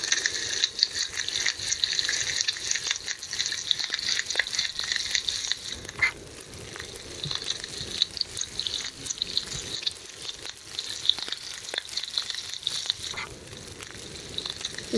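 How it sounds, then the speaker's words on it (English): Rabbit meat frying in a pan in The Long Dark survival game, a steady close sizzle and crackle running for the whole stretch with faint stirring clicks and ticks over it. "You cook that piece of rabbit."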